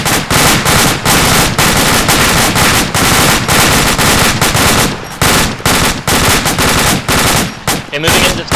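Loud, dense automatic gunfire in a military tactical game, rapid continuous bursts with brief gaps, close and overwhelming.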